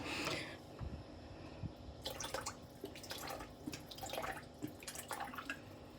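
White vinegar is poured by the capful into a bowl of water for soaking boneless chicken, giving faint trickles and scattered drips, quiet and close with no talking.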